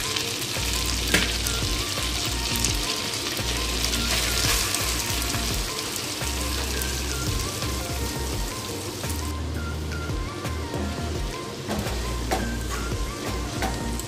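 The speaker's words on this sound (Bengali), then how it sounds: "আমি মোচাটাকে নেড়ে নিচ্ছি" Boiled banana flower stir-fries with asafoetida, ginger and green chilli, giving a loud, dense crackling sizzle close by, broken by the repeated scrape and thump of stirring.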